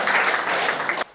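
Audience applause in a Hindi comedy and poetry gathering, a dense burst of clapping from a crowd that holds steady for about a second and then stops abruptly.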